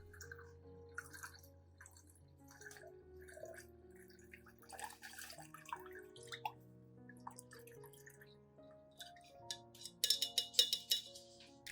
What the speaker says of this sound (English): I will quickly filter out all of the coffee grounds, keeping only the nutrient-rich liquid for use on the orchid plant